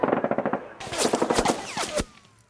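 Machine-gun fire as a sound effect in a tabletop wargame battle: a rapid rattling burst of shots, then louder sharp cracks and a final report fading out, close and punchy, with no speech.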